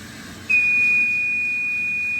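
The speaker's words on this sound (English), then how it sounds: "That's just a safety switch. Nothing to be concerned about, even though it sounds really alarming." A coffee roaster's safety switch alarm whistles during a re-roast of coffee beans: a sudden, piercing, steady high tone cuts in partway through and holds unbroken to the end over a low background hum.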